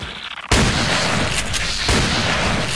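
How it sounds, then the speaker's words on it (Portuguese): A point-blank shotgun blast from Resident Evil 4 explodes loudly after a brief quiet moment, followed by a sustained roaring rumble and echo that fills the rest of the clip. "Não senti o tiro de shotgun, a queima-roupa, né?"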